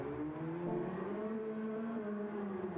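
Sim racing cars from a racing video game lapping a track, a steady engine drone with shifting pitch and layered whirring, continuous and fairly loud with no talk.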